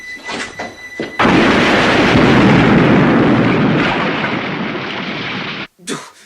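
A big film explosion blows up a woman and her husband: a sudden loud roaring blast follows a few quieter sounds and rumbles on for several seconds before cutting off abruptly.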